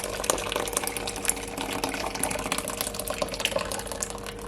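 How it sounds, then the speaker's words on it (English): Pineapple and coconut juice pours steadily through a strainer in a continuous splashing trickle, close and fairly loud, with no one talking. "Now just pour it in."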